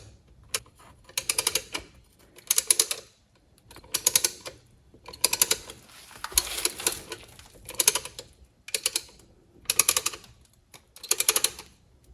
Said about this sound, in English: I'm going to add a little bit of pressure to the plates and begin ratcheting